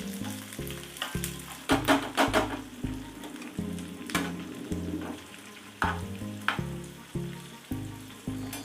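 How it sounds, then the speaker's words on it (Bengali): Cubed medium onions fry in a pan for chilli chicken with a steady, crackling sizzle, broken by a few louder stirring scrapes and set over a stepped, tonal backing. "3টে মাঝারি সাইজের পেঁয়াজ আমি কিউব করে কেটে খোলাটা ছাড়িয়ে রেখে দিয়েছি। এটাকে একটু ভাজবো,"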